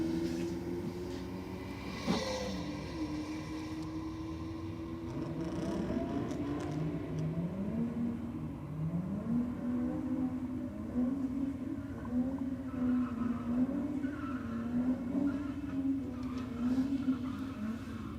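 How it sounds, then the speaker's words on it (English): A Ute does a burnout at night at Sydney Dragway: an engine roars and revs with rising and falling pitch, heard from a distance with steady background noise throughout. "Well, nice, strong burnout from the Ute."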